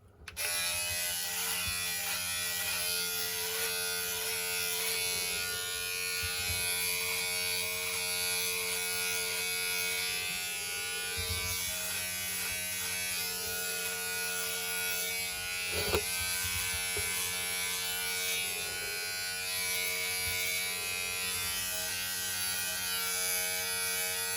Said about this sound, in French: Je vais me raser, ça va aller plus vite.